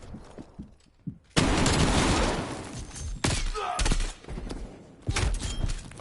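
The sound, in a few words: gunfire from a zombie video game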